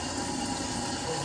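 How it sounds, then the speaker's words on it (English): Tap water runs steadily into a sink while someone washes soil-covered hands, a close, even rushing with no talk. "I'm gonna take this, wash my hands because I got soil underneath my fingernails"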